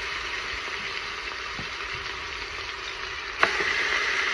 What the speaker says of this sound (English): And you want to just stir fry them just a little bit